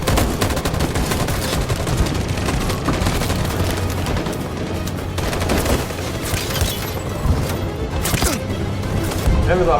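Rapid gunfire in Detroit: Become Human, a dense sustained fusillade of overlapping shots and booms filling the whole stretch, loud and continuous, with shouting voices mixed into the battle.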